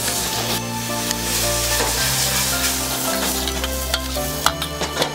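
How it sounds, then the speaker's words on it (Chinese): Young ginger strips and fresh Sichuan peppercorns are tossed in a hot wok, with a loud, steady sizzle of oil throughout and the scrape and clatter of a spatula stirring quickly, close up. "加入备好的芷江丝，快速翻炒，投入少许的鲜花椒，一同炒出香味"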